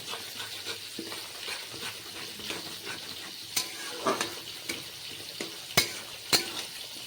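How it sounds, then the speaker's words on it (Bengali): Ground coriander and cumin fry in a pan with a continuous sizzle, broken by repeated scraping spatula strokes and a few sharp metallic clinks at close range. "সবগুলো উপকরণকে এখন ভালো করে ভেজে নেব"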